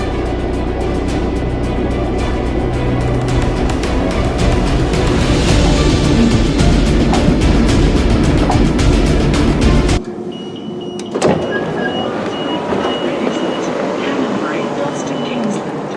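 London Underground Central Line train pulling into a station, a loud sustained roar with rumbling wheels and squealing that cuts to quieter platform hum with a clunk as the train stops.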